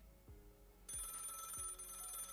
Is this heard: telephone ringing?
yes